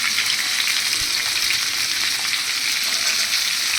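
Grated coconut and pumpkin fry in a pan with a loud, dense, continuous sizzle, a busy hiss that holds steady throughout, with no talking.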